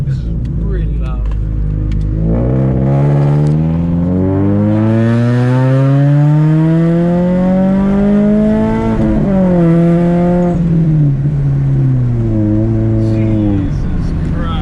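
A Scion FR-S fitted with a TRD cat-back exhaust revs up in one long, loud, rising sweep, holds near the top, then drops back toward idle. It is close and continuous, with voices over it.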